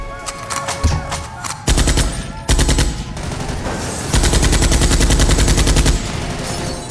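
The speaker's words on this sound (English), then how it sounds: "Without hesitation, Benteen gestured for his men to fire." Men open fire on Robin in an audio drama: loud, close machine-gun bursts in rapid rattling volleys, several separate bursts of sustained automatic fire with no speech over them.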